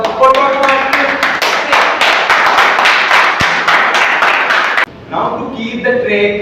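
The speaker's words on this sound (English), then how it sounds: "let's have a big round of applause for Toastmasters" An audience at a Toastmasters meeting gives a loud, sustained round of applause close by, with many hands clapping briskly for about five seconds before it stops abruptly and a voice begins talking.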